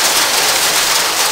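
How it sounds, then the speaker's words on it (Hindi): Heavy rain falls steadily outdoors, a dense, even hiss of drops that stays loud and unbroken throughout, with no voices over it. "बाहर बहुत तेज़ बारिश हो रही है, कल से बारिश हो रही है"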